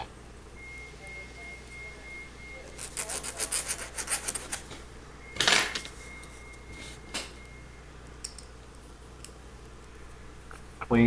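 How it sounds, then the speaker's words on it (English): Small metal tubes being cut for a Hot Wheels Firebird drag car restoration, heard as a short burst of rapid rasping saw strokes followed by a couple of isolated scrapes in a quiet workspace. "Cut the tubes."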